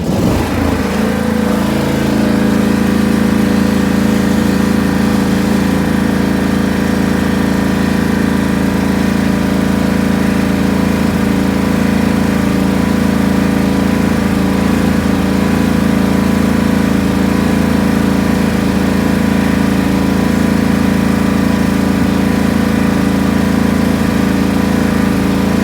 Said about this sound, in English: let's rev it up one more time